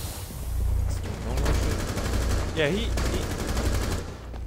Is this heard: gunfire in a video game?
yes